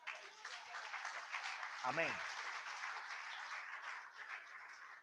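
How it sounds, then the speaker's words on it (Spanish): A church congregation applauds in a steady wash of clapping throughout, with a single voice calling out briefly over it partway through. "Denle un aplauso al Señor."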